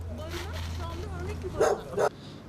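Dogs bark at an animal shelter, two loud barks near the end over a steady low hum, with people talking throughout.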